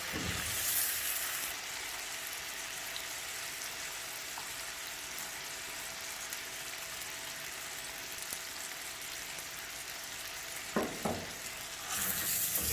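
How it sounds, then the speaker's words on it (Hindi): Chicken frying with ginger garlic paste in a karahi, a continuous close sizzle and crackle running steadily throughout, with a couple of brief utensil knocks near the end. "चिकन को 5-10 मिनट फ्राई कर लें, ये ब्राउन हो जाए।"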